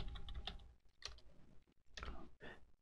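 Someone types on a computer keyboard while working in 3D modelling software, quick clusters of key clicks separated by short pauses, close and fairly quiet.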